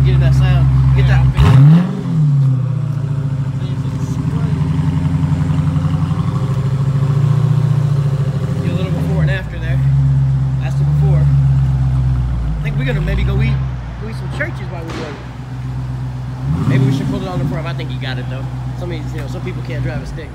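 A Camaro with a big exhaust pipe rumbles and revs close by, its deep engine note rising and falling repeatedly while people talk over it.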